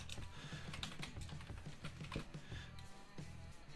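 Brisk typing on a computer keyboard to search a setting in 3D printer slicer software, a quick run of close, soft key clicks over a steady faint background hum.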